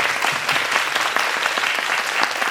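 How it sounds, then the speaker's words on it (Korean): An audience at a book talk applauds, dense steady clapping from a room full of people, continuous and fairly close throughout. "박수 한번 주시죠"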